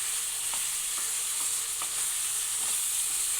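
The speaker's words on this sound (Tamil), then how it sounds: "நல்லா கிளறி விட்டுக்கலாம்." Chicken fry sizzles in oil in a pan while a spoon stirs it, a steady bright hiss with soft, scattered scraping taps, and no voices.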